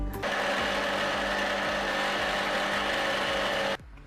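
A mixer grinder blending a green tomato mix in its jar, a loud steady motor whine with a droning hum that starts abruptly, runs about three and a half seconds and cuts off.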